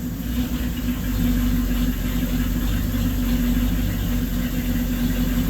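An old LaSalle car engine idles steadily and unevenly from fuel starvation, heard at the exhaust, with a low, rough rumble and a faint irregular throb, close and continuous throughout.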